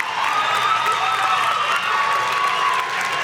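A graduation ceremony crowd cheers and applauds for new university graduates, a steady dense wash of clapping and shouting voices held throughout at fairly close range.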